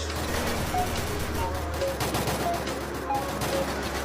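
Gunfire from a mobile shooter video game rattles in dense, continuous bursts that sound like rapid automatic fire. A voice talks over the shooting.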